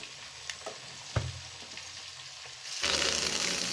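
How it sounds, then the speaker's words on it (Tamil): Spices for tempering hit hot oil for a Tamil fish kuzhambu: a few sharp crackles and pops lead into a loud, dense burst of sizzling that carries on to the end. "நல்லா குழம்பு கொதிச்ச அப்புறம் அதை இறக்கிட்டு எப்பவும் போல் தாளிசம் பண்ணிட வேண்டியதான்"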